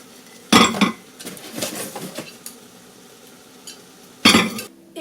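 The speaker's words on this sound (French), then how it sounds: "Je vais commencer à les laver." A set of blue ceramic plates clinks and clatters as they are handled for washing, with two loud bursts of clanking separated by quieter rattles, close by with no talking.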